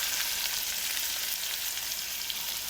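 Potato curry frying in a pan as turmeric goes in, a steady, dense sizzle holding at an even level throughout, close up and without any talking.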